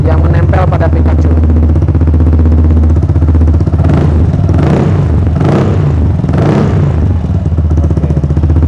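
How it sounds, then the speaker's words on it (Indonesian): A yellow Vespa Sprint scooter fitted with a Polini Evo (Polini Cobra) exhaust revs loudly and close, with rising and falling throttle blips over a steady engine drone. "Ini dia bunyi dari knalpot Polini Evo, Polini Cobra, yang menempel pada Pikachu."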